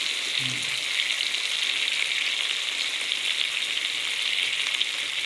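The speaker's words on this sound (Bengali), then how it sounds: "এবার দিয়ে দিচ্ছি টমেটো কুচি এবার দিয়ে দিচ্ছি হলুদ গুঁড়ো" Chopped tomato and turmeric powder fry in a pan for khichuri, making a loud, even, continuous sizzle with a brief low clink near the start and no voices.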